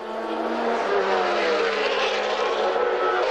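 Formula One race car at Watkins Glen during the US Grand Prix East, its engine a loud, steady high-pitched whine held close and continuous throughout, with no voices.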